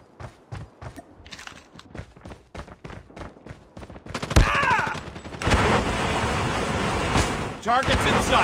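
Gunfire from the mobile shooter game Call of Duty Mobile, with rapid rhythmic footsteps or shots at first, then a denser burst of loud firing and game noise, with voice callouts mixed in.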